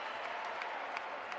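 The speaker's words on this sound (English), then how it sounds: "Crowd applauds the effort on the defensive end." Crowd applause at a professional basketball game in the Basketball Champions League, a steady wash of clapping filling the arena with no breaks.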